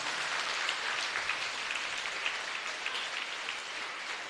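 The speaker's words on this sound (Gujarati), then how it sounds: "એટલે જોરદાર તાળીઓ આના માટે થઈ જાય." Sustained applause from a crowd at a school International Day of Yoga event, a dense, even crackle of many hands held steady at moderate loudness for several seconds, no voices.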